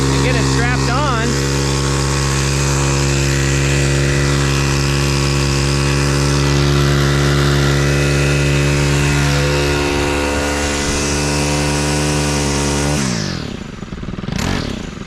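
A Stihl FS91R string trimmer engine runs loud and close, a steady two-stroke drone at idle for most of the stretch, then a sharp rev near the end before settling back.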